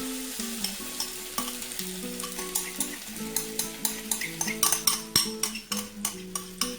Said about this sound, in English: Let's go in with our egg mixture here.